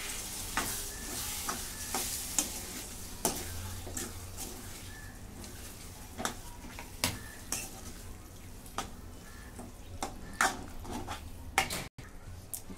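Green peas curry being stirred in a pan after salt goes in, with repeated scraping clinks of a spoon against the metal over a low, steady sizzle, close and alone without talk.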